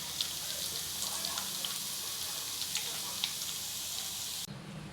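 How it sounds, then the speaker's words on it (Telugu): Koramenu fish frying in hot oil for pickle, a dense continuous sizzle with scattered pops and crackles, close and steady, cutting off abruptly near the end. "చూడండి, ఇలా ఫ్రై చేసేసుకుందాం"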